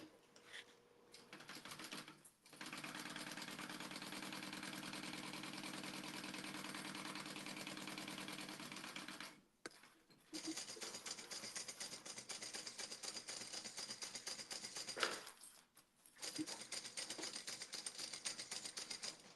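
A sewing machine stitches a seam on a fabric clutch wallet. Its rapid, even needle clatter runs in long bursts, and there are short pauses between runs.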